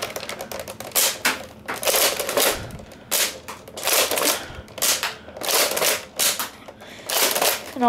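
A Nerf Deploy foam blaster firing repeatedly, a string of sharp mechanical clacks and snaps in irregular bursts, close and fairly loud with brief gaps between shots.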